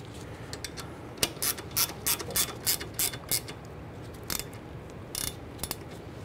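Axle bolts snugged down on a 1994-2004 Ford Mustang rear axle shaft replacement: a quick series of close, rhythmic ratchet clicks in short strokes, a pause, then a few more strokes, with no talking.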